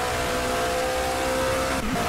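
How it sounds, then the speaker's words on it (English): Race car engine in a 24-hour Le Mans racing video game, a steady loud droning hum with a fixed tonal whine, continuous and close throughout the short stretch with no speech. "No, that is the noise of the engine."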